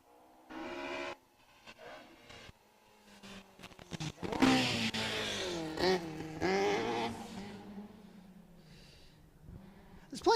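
A rally car on a forest stage, heard first faintly in the distance before it closes in, its engine swelling to a loud accelerating roar with gear changes, then fading as it passes, with voices briefly under it.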